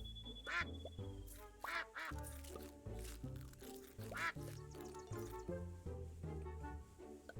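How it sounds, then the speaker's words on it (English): A fluffy duck in a capybara spa video game quacks repeatedly, a run of short bright quacks layered over bouncy game music. "There's a fluffy duck!"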